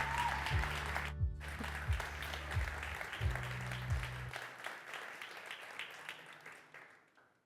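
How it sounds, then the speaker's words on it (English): Applause from an audience at a game studio demo day event fills the room, a dense steady wash of clapping that holds for several seconds and then tapers off, with some background music or tones fading under it early on. "Big applause for them."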